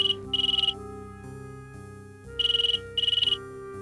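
Telephone ringing in a home: an electronic warbling ring in short pulsing bursts, two pairs of rings separated by a pause, heard over a steady background music bed with no talking.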